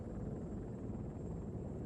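A helicopter lifting off in Arma 3, its rotor and engine producing a steady, dense low roar that holds evenly and fairly loud throughout, with no voices.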